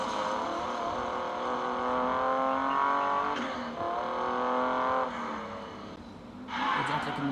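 A BMW GTS engine revs and accelerates hard in a steady sustained roar with rising tones and brief shifts between gears, loud and close throughout.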